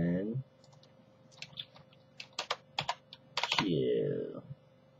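Keyboard typing while writing a script, a short burst of irregular key clicks between spoken words from a nearby person at the start and end.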